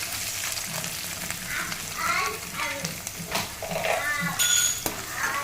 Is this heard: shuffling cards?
no